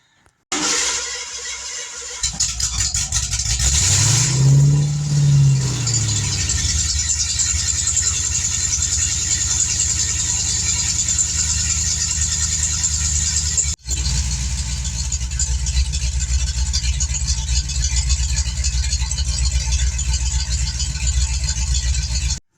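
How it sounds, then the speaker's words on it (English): A Ford Mustang Foxbody with Pypes Violators exhaust and turn-down tips cranks briefly, then fires and settles into a loud, steady, close idle that runs on without interruption. "I'm going to start it up and see if I have any exhaust leaks."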